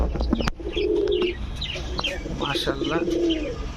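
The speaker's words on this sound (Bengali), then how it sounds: "খুবই সুন্দর কবুতরগুলো" Pigeons coo in low, throaty rolls, two drawn-out calls over a steady background of chirps and faint voices nearby.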